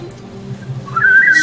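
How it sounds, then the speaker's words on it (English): A person whistles a single sustained, slightly wavering note that rises toward the end, heard close and alone over a low background hum. "So I can do all kinds of weird whistles."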